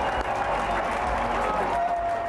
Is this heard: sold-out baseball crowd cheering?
yes